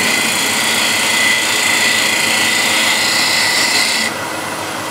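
A woodturning gouge cuts into wood spinning on a lathe, giving a loud, continuous rasping hiss over the lathe's hum that drops off abruptly near the end.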